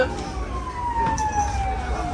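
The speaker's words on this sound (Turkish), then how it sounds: "Ambulans her yerde ambulans." An ambulance siren passes on the street outside, heard as a steady, somewhat distant wail over low traffic rumble and background noise.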